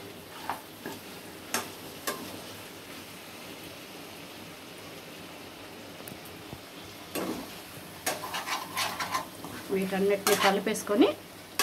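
A spoon stirs and scrapes in a pot as coriander goes into chicken gravy, with scattered clinks and clatter over a quiet background. The scraping grows busier toward the end.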